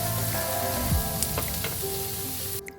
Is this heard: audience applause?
no